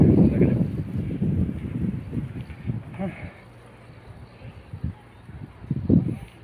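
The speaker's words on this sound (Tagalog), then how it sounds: "Super hangin." Strong, gusty wind at the top of Sagbayan Peak, Bohol, rumbles against the microphone in uneven surges, strongest at the start, while someone speaks intermittently.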